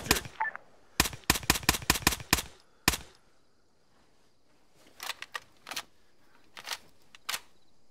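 Bursts of automatic gunfire from a machine gun in the video game Arma 3: a rapid burst of sharp cracks, then a single shot, then several fainter bursts farther off with quiet gaps between them.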